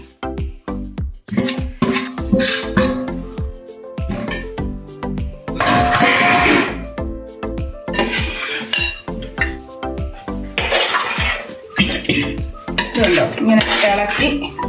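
Fried fish pieces being stirred into gravy in a pan for a Kerala-style fish pickle, with a steady run of loud metal scraping, clanking spoon-on-pan knocks and clinks, close up and without talk.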